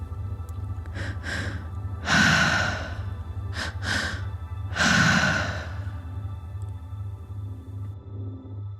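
Slow, deep breaths during a guided breathwork session: two long, loud exhalations stand out among shorter breaths over a low, steady pulsing background drone.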